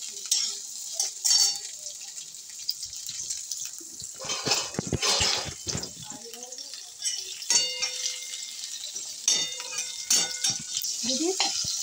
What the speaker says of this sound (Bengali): মা এই যে কড়াতে আমি দিয়ে দিলাম, নুন হলুদ মাখানো আছে। ভেজে নিচ্ছি আমি চিংড়িগুলোকে।